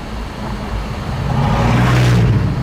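A 2014 Jaguar F-Type S pulling away in drive, its engine a steady low rumble that swells gradually as the car gathers speed, close and fairly loud with no talk over it.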